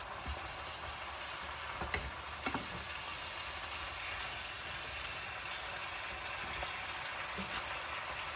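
Store-bought vegetable mix with sweet corn stir-frying in a pan, a steady faint sizzle with a few soft scrapes and knocks as it is stirred, no talk.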